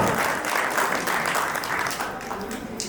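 Loud, sustained applause from an audience at a farewell tribute event honoring Lata Pandey and her team, with dense clapping filling the full stretch at a steady level.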